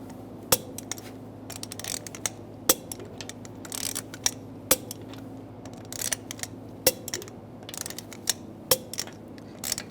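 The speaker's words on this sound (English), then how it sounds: "Now we're going to torque the lug bolts down to 95 foot-pounds in a cross pattern to tighten the wheel down evenly." A torque wrench tightens lug bolts to 95 foot-pounds in a cross pattern on a 2006-2009 Mercedes-Benz E350 front wheel: sharp metallic clicks every second or two, with softer ratcheting in between, close and clear.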